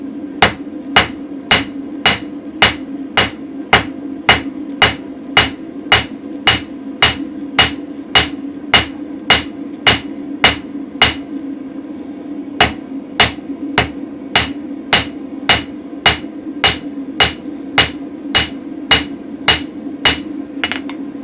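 A hammer strikes mild steel on a spring fuller in a steady run of ringing blows, roughly two per second, loud and close, with a short pause midway before the rhythm resumes.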